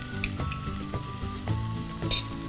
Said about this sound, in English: So just let this saute for just a minute.